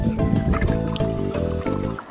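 Liquid, demineralised water with antifreeze, poured into a car's coolant reservoir, a short trickling fill heard under music.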